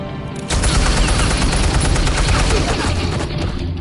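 Sustained automatic gunfire rattles loudly and continuously in a Batman video game, a dense barrage of shots starting abruptly after a brief pause and holding for several seconds with no pause.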